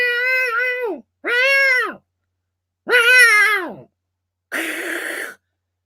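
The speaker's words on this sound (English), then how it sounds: "I hear cat fighting sounds" Cats fighting and meowing: four drawn-out, wavering yowls in close sequence, the last rougher and more hissing, loud with brief silences between them and no talk.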